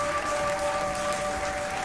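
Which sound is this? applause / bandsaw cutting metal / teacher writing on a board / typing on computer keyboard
applause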